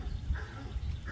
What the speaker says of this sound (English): He's right back there teasing the dogs.